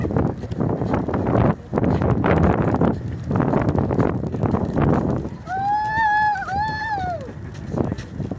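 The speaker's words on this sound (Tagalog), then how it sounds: "It's so windy!" Wind blows at the beach in Boracay, a loud, steady gusty roar buffeting the microphone throughout. Voices shout and laugh over it, and a high exclaiming voice cuts in near the end.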